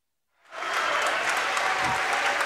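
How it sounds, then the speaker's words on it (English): A volleyball crowd at a WIAA Division 3 sectional final cheers and applauds, with both sides' fans roaring steadily after a quiet start and a broad, sustained wash of clapping and shouting filling the gym. "both sides cheering on their teams"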